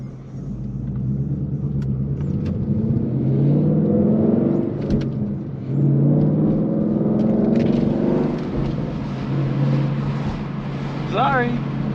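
A Ford Mustang GT Premium with the 5.0 V8 and a manual gearbox cruises along, its engine giving a loud, steady low rumble inside the cabin that swells and eases as the throttle changes, and a voice speaks over it.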